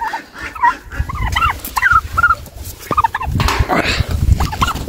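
Several turkeys gobble in quick, repeated bursts, close by, their warbling calls overlapping against a low background rumble.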